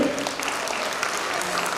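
Audience applause fills a concert hall at a celebration for mothers at the Sevan culture centre, a dense, steady wash of clapping lasting the whole moment, with faint musical tones lingering underneath at the start.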